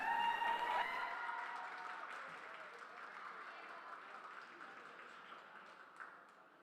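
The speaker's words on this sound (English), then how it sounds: "Let's give her a round of applause." Light, distant applause from spectators at a youth fair beef breeding show, a soft smattering of claps fading gradually, with a voice briefly over the start.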